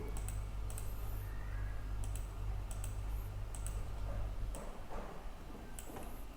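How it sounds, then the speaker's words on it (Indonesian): Keys clatter on a computer keyboard as a number is typed into a Microsoft Excel sheet, a few scattered close taps and a firmer enter press over a steady low hum. "Misalkan di sini saya ketik angka 1, enter."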